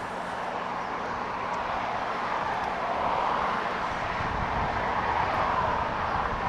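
A Qantas airliner arriving from Melbourne at Los Angeles International Airport gives off a broad, steady jet roar from some distance, swelling slightly partway through, with no talk.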